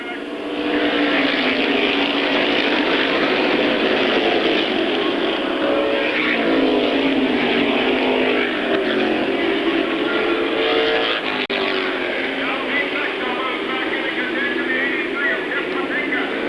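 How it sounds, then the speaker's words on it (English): Race cars at Airborne Raceway during a 1992 weekly event make a continuous, loud roar of engines that holds for the whole stretch, with an announcer talking over it. "Jim Silly and Bucko Branham, the top 2 cars."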